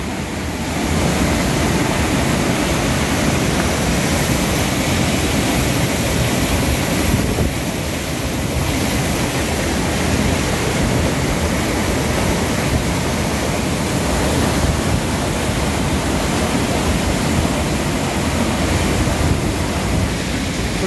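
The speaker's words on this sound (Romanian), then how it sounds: "sunetul ăsta a apei." Water rushes loudly and continuously through a water-powered whirlpool in Sârbi village, Maramureș, Romania, a dense, unbroken roar with no voices or other sounds standing out.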